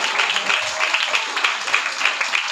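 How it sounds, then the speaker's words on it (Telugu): A church congregation claps together in a quick, even rhythm, the sharp claps landing close and steady through the whole stretch. "చప్పట్లు కొట్టాలి."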